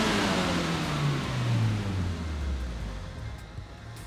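A car engine running with no oil drones loudly and roughly, its pitch sinking slowly as it labours on a dyno, with a steady mechanical rumble throughout.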